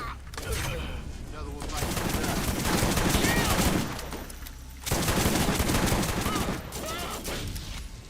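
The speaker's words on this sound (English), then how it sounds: "I switched to the fire shotgun for the pilot." Fire-elemental shotgun blasts in the video game Borderlands, fired against a pilot enemy, come as dense, loud back-to-back bursts of gunfire with a brief lull near the middle.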